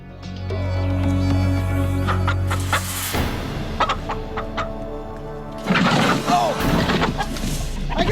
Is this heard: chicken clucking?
yes